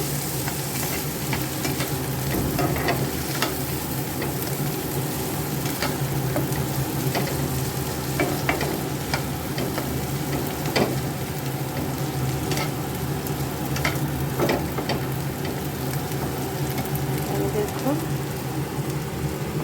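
Kakrol (spiny gourd) stuffing frying in a pan while it is stirred, a continuous rain-like sizzle with repeated spatula scrapes and taps throughout.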